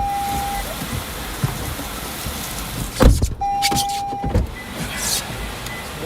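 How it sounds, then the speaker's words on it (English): Heavy rain drums steadily on a car during a tornado chase in Adair, Illinois, loud throughout, with a power window whirring briefly and a few thumps and bursts of interior noise. "It's warm and humid here. Mad rain."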